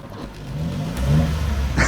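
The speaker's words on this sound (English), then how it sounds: "Give us a rev." A RAM TRX truck engine revving at a show: a deep, close engine note rising in pitch and loudness over a couple of seconds.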